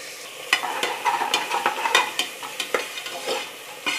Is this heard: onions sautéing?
yes